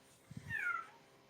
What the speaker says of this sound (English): Swamp Cat is hunting a snake.